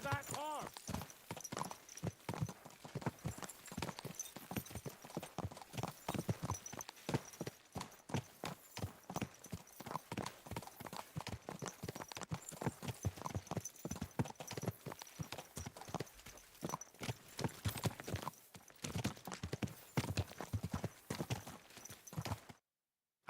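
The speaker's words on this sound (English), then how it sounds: "Watch out with that horse!" Steady rhythmic horse hoofbeats clip-clopping throughout in the video game Kingdom Come: Deliverance II, close and even-paced, with faint background ambience and no talking.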